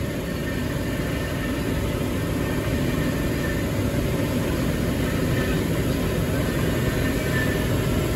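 A loud Sydney suburban train running, a dense, steady rumble and roar with constant high-pitched hiss, heard from inside or close by and unbroken throughout.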